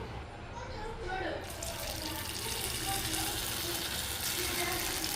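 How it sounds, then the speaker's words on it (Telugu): Onion samosas drop one at a time into hot oil in a street-style kadai, a dense, steady frying hiss that thickens partway through. "చూడండి ఆయిల్ హీట్ అయింది మనం ఒక్కొక్కటిగా వేసుకుందాము"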